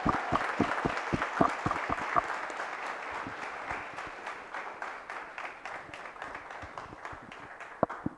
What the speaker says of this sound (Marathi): प्रज्वल आणि राहुलसाठी एकदा जोरदार टाळ्या झाल्या पाहिजे